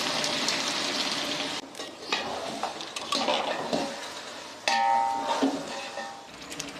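Three kilos of large chicken pieces with a handful of salt sauté in a big biryani pot, a busy sizzle broken by scraping stirs and metal clanks of the ladle against the pot.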